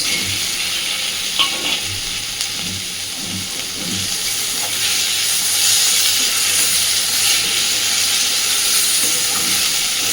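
Prawns cooking in a pan with water spinach produce a close, steady sizzle with soft stirring scrapes early on, the hiss growing louder and fuller in the second half.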